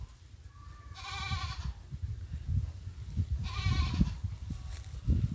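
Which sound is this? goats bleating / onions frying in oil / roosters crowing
goats bleating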